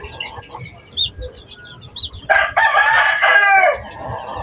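Chickens cluck and crow close by, with high chirps from newly hatched chicks scattered among them and a louder burst of calls midway.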